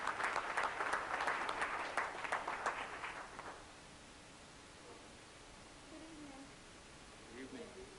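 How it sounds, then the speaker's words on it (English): An audience at a business meeting claps for a speaker, a fairly faint burst of applause over a hiss of background noise that dies away after about three seconds, leaving a quiet room with low murmurs. "Let's give her another round of applause."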